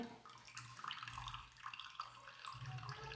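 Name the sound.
bitter gourd scooped out of warm water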